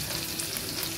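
Turmeric is stirred into a sizzling spice tempering for kadhi, a brief, close, even frying hiss with light stirring texture.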